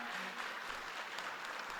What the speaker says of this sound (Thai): ขอเสียงปรบมือให้ทั้ง3ท่านอีกทีนึงเจ้า